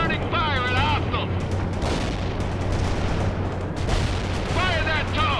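A Bradley fighting vehicle fires in the video game World in Conflict, a dense, continuous barrage of gunfire and booming blasts with whistling projectiles, loud and close throughout.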